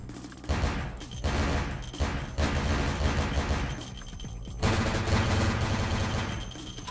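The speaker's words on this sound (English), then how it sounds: "so his bomb vest is still going off" Bomb vest exploding again and again in Vampire: The Masquerade - Bloodlines, loud overlapping blasts and crackling bursts that continue for several seconds, with brief dips between surges.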